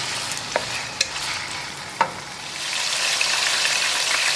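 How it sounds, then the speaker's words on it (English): Squid and shrimp with garlic sauté in a pan, giving a steady soft sizzle with a few sharp scrapes and taps of stirring, close and moderately quiet. "we're just going to saute this for about a couple of minutes to get the garlic flavor into the seafood"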